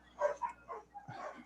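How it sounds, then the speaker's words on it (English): A dog barks several times outside a closed door, muffled and moderately distant, a short uneven run of yips and barks. "that's my dog barking outside the door"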